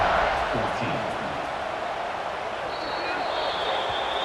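Stadium crowd noise in EA Sports College Football 26 during a kickoff, a steady broad roar of cheering fans that holds evenly throughout, with faint whistle-like tones drifting in near the end.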